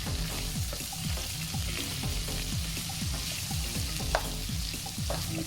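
Sausage with sliced ginger and chilies fries in a pan with a steady, close sizzle, and a regular stirring rhythm of scrapes and rattles runs through it, with no one talking.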